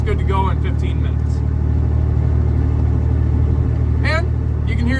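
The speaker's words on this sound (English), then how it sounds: "You can hear your exhaust a lot better. It is loud." Loud, steady low exhaust drone and rumble from a Chevy S10 truck with its interior stripped out, heard from inside the cab while driving, with a person talking over it.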